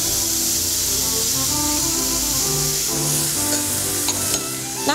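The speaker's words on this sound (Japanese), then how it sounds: "材料を全部鍋に入れて炒めながら煮詰めていくだけです。" Minced meat and onion sizzling as they are stir-fried in a pot for dry curry, a continuous close hiss with occasional spatter and stirring scrapes.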